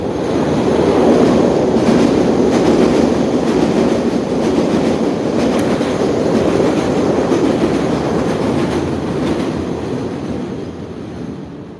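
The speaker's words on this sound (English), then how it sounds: "here comes the train, you guys. It's gonna be loud." A train rumbles past close by, a loud continuous roar with rattling wheels that holds steady and slowly fades near the end.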